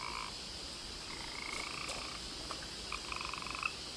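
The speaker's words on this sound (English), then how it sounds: "I hear the frogs, but I do not see them." Frogs croak in the video game What Remains of Edith Finch, a layered chorus of repeated rattling calls in short bursts that build toward the end over a steady ambient bed, with no talking.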